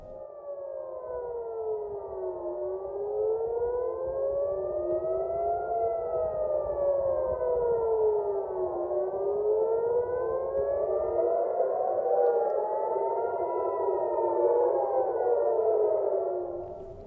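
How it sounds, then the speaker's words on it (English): Civil defense air raid sirens wail over central Israel, several overlapping tones rising and falling slowly at a distance, sustained and steady with no voices. "sirens blared over central Israel as the missiles fired from Yemen were intercepted."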